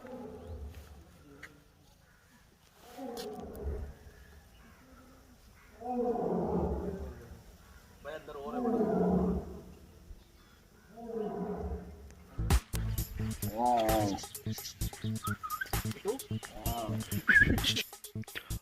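A tiger's deep, drawn-out roars come in repeated swells at Nahargarh Biological Park, each lasting a second or two, sounding somewhat distant, followed by a louder stretch with clattering and voices.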